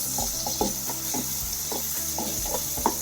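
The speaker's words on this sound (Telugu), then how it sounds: "కొంచెం ఉల్లిపాయ పచ్చి వాసన పోయేదాకా వేగనించి ఇలా ఉల్లిపాయలు కొంచెం వేగిన తర్వాత" Onions and green chilies fry in a pan with a steady high sizzle, while a spoon scrapes and stirs in repeated short strokes about every half second, close up with no talk.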